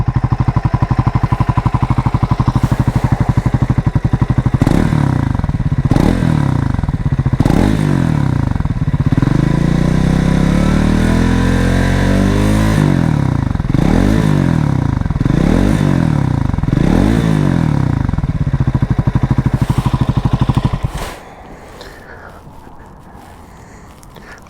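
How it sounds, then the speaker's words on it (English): A Triumph Scrambler 400 X 400cc single-cylinder motorcycle revs repeatedly from idle, loud close blips rising and falling over a thumping idle, before the engine cuts off and quiet remains. "Beautiful little thud there from the small single"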